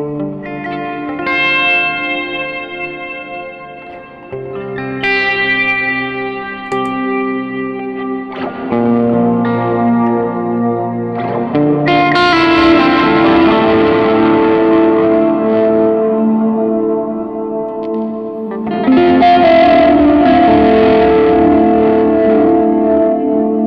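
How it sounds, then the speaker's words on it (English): A distorted electric guitar plays sustained chords through delay and reverb from an effects unit, loud and heavily washed, notes ringing and trailing into each other, with no talk. "that's too much effect on the delay, on the reverb"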